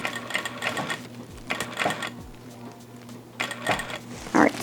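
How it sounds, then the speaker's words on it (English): An industrial Vevor sewing machine running a straight stitch through fabric for a layered ribbon tutu, its needle whirring in several short bursts with pauses between, close and fairly quiet. "I'm just going to do a straight stitch and do a back stitch."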